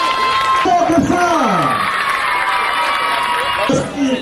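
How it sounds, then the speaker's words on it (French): Crowd cheering and applauding at an NGO ceremony in Port-Bouët, a loud steady din of voices and whoops, with shouting children and a speaker's voice rising over it. "Ici, on applaudit plus fort que ça."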